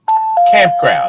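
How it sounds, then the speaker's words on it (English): A two-tone electronic doorbell chime rings loud and close for about a second while someone talks over it. "That's our doorbell."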